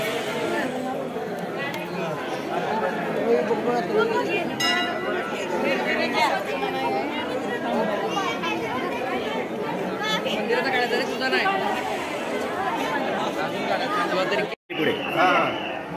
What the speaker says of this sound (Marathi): रात्र झालेली आहे तरी गर्दी आहे इकडे